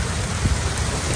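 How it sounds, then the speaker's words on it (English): Heavy June rain pours down in Fort Myers, Florida, a loud, dense and unbroken hiss of drops striking the surfaces close by. "More Florida rain."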